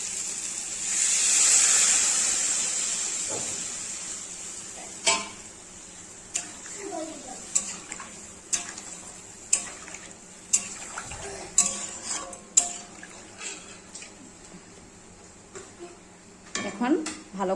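Water is poured into a fried fish curry in a pan, a loud rushing pour at first, followed by repeated close clinks and scrapes of a utensil against the pan.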